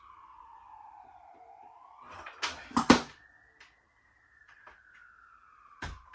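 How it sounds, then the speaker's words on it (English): A faint siren wails in the distance, rising and falling, with a few louder knocks and clatters nearby partway through. "You don't hear sirens often here."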